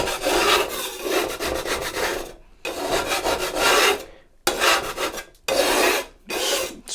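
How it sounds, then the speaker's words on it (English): A Piezano scraper is dragged across a pizza peel resting on a cutting board, making loud, close, gritty rasping strokes in quick repeated bursts with brief pauses between them, with no talking. "Alright, pizza peels on the cutting board. And use your Piezano scraper."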